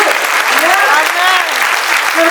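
Congregation applause for participants at a church service: dense, steady clapping fills the space throughout, loud and continuous, with some tonal voices or cheering rising above it.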